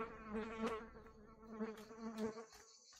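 Bees buzz in a forest in the Martha Is Dead video game, a steady close insect drone that swells and fades in waves throughout, with no talking.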